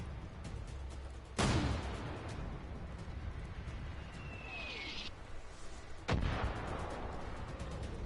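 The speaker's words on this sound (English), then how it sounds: "I see where you are now, thanks to that guy firing the mortar" Two heavy mortar launches boom in a Far Cry 5 match, a few seconds apart, each a sharp, loud thump with a lingering rumble over steady background game noise.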